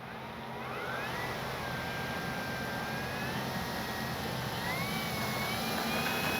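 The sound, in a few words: FMS P-47 Thunderbolt RC model warbird plane taking off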